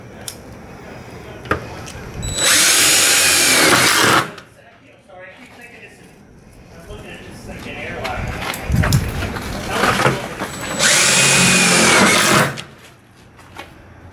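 A power drill whines loudly in two sustained bursts driving number 12 one-inch self-drilling screws into a bus, each a couple of seconds long, separated by a quieter stretch with someone talking nearby.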